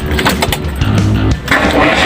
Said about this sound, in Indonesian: Kita coba starter melalui kunci kontak.